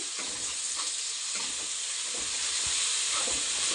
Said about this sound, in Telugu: ఇందులోకి అల్లం పేస్ట్ అండ్ పచ్చిమిరపకాయలు వేసేసి ఇలా బాగా వేయించుకోవాలి